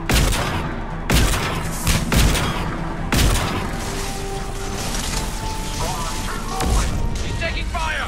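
Mass Effect 3 gunfire: loud bursts of shots and sharp impacts crack out in quick clusters over a busy battle mix, with other game sounds layered underneath.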